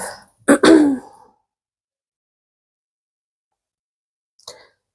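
Someone coughs and clears their throat in a quick, harsh burst near the start, then silence, then one brief faint cough near the end.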